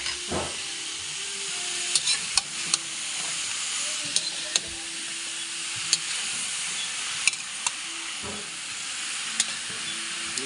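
Meat sizzles loudly in a hot pan as it is stirred, with a continuous close hiss and a few sharp clanks and scrapes of the utensil at intervals.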